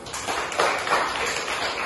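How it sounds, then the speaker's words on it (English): A class of students claps their hands together in a classroom, a dense, steady patter of many hands lasting about two seconds with no voices over it. "Let's clap our hands."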